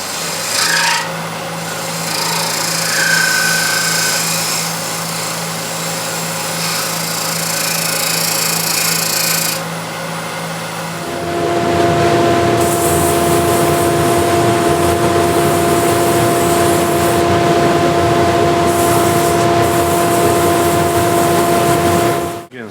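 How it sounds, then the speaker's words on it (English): A power sander runs steadily over a glued wooden lid, a loud continuous whirring rasp with a hum that shifts pitch partway through as the tool is worked across the wood. "Sanding is done"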